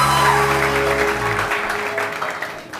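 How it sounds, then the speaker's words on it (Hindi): Studio audience applauding on the TV One morning show Aap ka Sahir, a loud round of clapping that tapers off slightly over a few seconds over a lingering musical tone. "अपने लिए भी तालियां बजाइए।"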